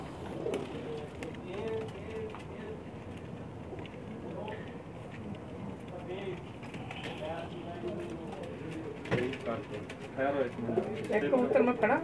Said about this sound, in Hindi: कुछ ये तैयार हैं बाजियों के लिए, हज कप के लिए तैयार हैं कबूतर